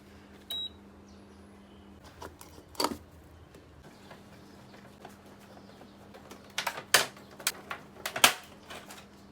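Plastic clicks and sharp snaps as an air conditioner indoor unit is pried apart by hand, the unit iced up and its blower wheel jammed against its plastic housing; scattered taps, a louder crack, then a close cluster of rapid snaps.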